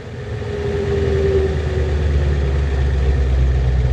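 The engine of a 1986 Ford F350 megacab truck rumbles deep and steady while driving, with a brief higher tone early on as it downshifts, close and fairly loud.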